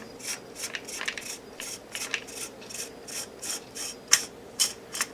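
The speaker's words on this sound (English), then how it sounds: "slowly unscrew this until you get it coming out very carefully" A part of an ATI TAC SX2 stock is slowly unscrewed, producing a fast run of close, crisp ratcheting clicks in irregular bursts, with no voice.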